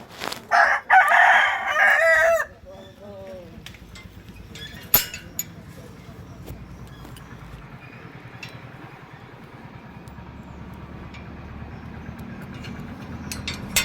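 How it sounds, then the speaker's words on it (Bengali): A rooster crows loudly and close at the start among a backyard flock of ducks and chickens, followed by softer, scattered clucking and faint farmyard noises for the rest of the stretch. "দেখবি হাঁস মুরগিগুলো।"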